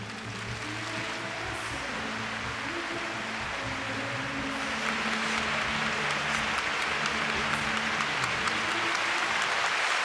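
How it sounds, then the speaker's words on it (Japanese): Loud, sustained arena applause after a men's free skate at a national figure skating championship, a thick unbroken roar of clapping that swells slightly partway through and holds to the end. "この大きな拍手が彼への最大の勲章です。"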